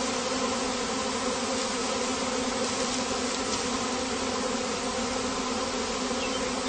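A honeybee swarm entering a beehive, a steady, dense buzzing drone close by, with no talk.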